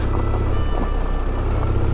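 A motorcycle on Shinko 70/30 tires rides dirt back roads, with a steady low engine drone and heavy wind buffeting, constant and close throughout.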